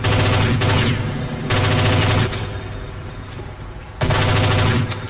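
Bursts of rapid automatic gunfire from an unsilenced gun in a tiny space in Counter-Strike: Condition Zero Deleted Scenes, loud and close, come in three long strings separated by short pauses with a ringing tail between.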